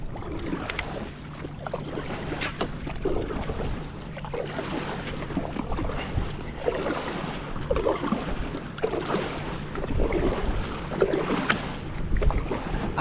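An inflatable Wilderness Systems iATAK 110 fishing kayak rocks and is paddled on open water, with continuous sloshing and splashing, irregular paddle strokes and a low steady background rumble throughout.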